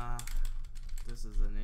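Quick clatter of keys on a computer keyboard entering a team name in the Winning Eleven 9 football game, soft close clicks running under a voice.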